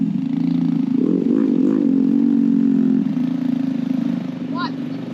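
Motorbike engine at a beach campsite: a steady idle rises briefly in a couple of revs, with people talking over it.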